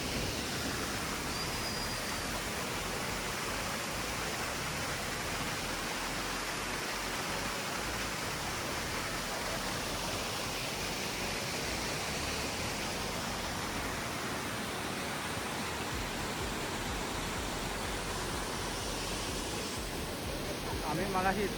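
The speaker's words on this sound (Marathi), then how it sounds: "आसनी वॉटरफॉल" Asani waterfall in monsoon roars as a steady, dense broadband rush that holds at an even loudness the whole time, with no break and no other sound standing out.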